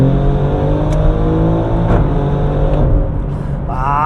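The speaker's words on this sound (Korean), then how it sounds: "업시프팅 할 때 빡 때리는 이 느낌은 진짜 매력있네." Maserati GranTurismo sports car engine pulling hard with a loud, steady harmonic drone and brief shift blips, close and continuous, rising in pitch at the end.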